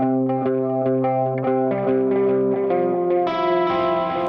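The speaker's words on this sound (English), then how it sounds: "If you have just a bit of overdrive and a dotted eighth note delay, I'll get to that later, with just a smidge of reverb, you get this nice sound" An electric guitar with light overdrive is run through a dotted-eighth-note delay and a touch of reverb. Picked notes ring and repeat in a rhythmic, shimmering pattern, loud and continuous with no speech.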